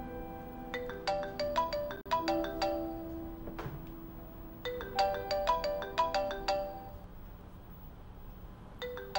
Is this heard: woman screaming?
no